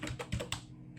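Several quick taps on a computer keyboard sound close by as text is typed into a web design program. Four or five light clicks follow in a fast, uneven burst, with no one talking.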